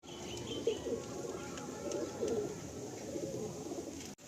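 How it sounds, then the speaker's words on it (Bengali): Pigeons at a loft in Diamond Harbour coo softly and repeatedly at close range, with faint chirps and a brief wing flutter against a quiet background. "সুন্দর পায়রা।"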